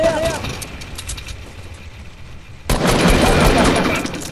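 Automatic gunfire bursts in a video game, rapid rattling volleys that fade, then a louder burst returns, with someone talking excitedly over the shooting.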